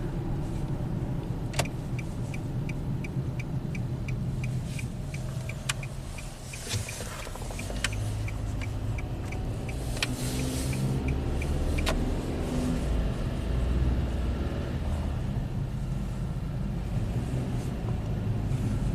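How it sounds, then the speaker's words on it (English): A Nissan with a slipping CVT transmission at about 107k miles drives along, its steady engine and road drone continuous throughout with a few faint clicks and no talking. "it feels like it wanted to shift here, but it was slipping severely"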